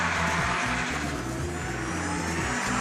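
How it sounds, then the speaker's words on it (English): A car doing handbrake turns, its engine droning loud and steady throughout with a throaty, pulsing rumble and no voices. "I'll try some handbrake turns"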